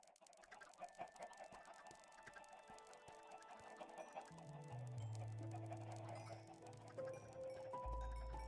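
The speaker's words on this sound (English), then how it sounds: "Chickens really are the way" Chickens cluck in Minecraft, giving repeated short, close clucks over quiet game ambience, while sustained musical tones step downward in the background later on.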